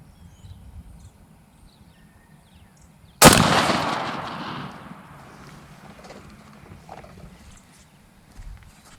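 A single loud shotgun blast firing Browning TSS 7 and 9 shot shells at a pattern target at 20 yards outdoors, a sharp report followed by a decaying echo, with quiet ambience before and after.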